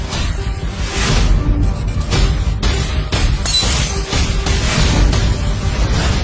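Glass shatters in a loud dramatic scene, bursts of crashing and scattering shards repeating over a dense, constant background with no talk.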